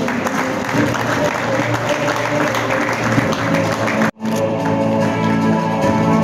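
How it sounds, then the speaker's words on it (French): Audience applause at a peace awards ceremony, steady clapping from a crowd that carries on for several seconds, cuts out abruptly for an instant, then resumes at the same level. "On applaudit citoyens."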